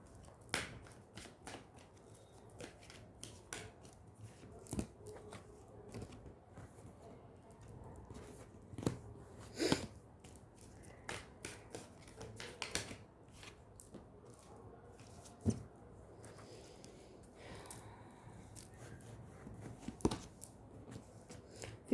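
Tarot cards shuffled and drawn by hand at close range: quiet, soft riffling and flicking with scattered sharper card snaps across a low background.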